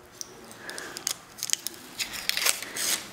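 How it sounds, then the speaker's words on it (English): Heat resistant tape being peeled off a cooled sublimation mug, a close series of sticky crackling rips and ticks that grow denser and louder toward the end, no speech. "So we're just going to pull the tape away."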